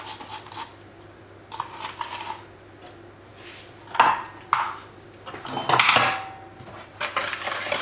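Sugar scraped with a utensil out of a small yogurt pot into a mixing bowl while making a lemon poppy seed yogurt cake, giving scattered close clinks and scrapes in short bursts over a quiet kitchen.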